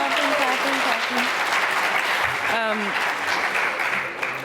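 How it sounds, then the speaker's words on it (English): An audience at an award event claps steadily for a few seconds, a dense wash of applause with a voice briefly audible over it. "Clapping."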